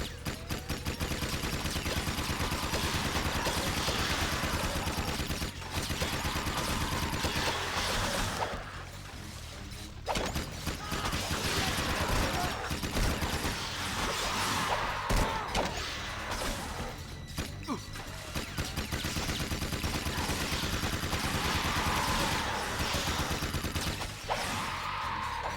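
Gunfire from the Jak II video game rattles in dense, sustained bursts with brief lulls, loud and continuous throughout with no talking.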